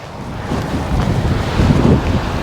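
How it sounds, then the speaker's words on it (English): Strong wind buffets the microphone in loud, rumbling gusts on the Welsh coast between Porthkerry and Rhoose, with a broad roar like surf behind it. "you can see how windy it is"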